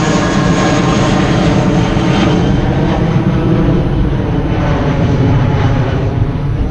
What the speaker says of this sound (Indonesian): Kita lihat pesawat dulu ya